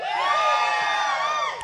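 A live audience cheers and whoops for the circus freaks performing troupe, a brief, bright burst of many voices held at steady loudness.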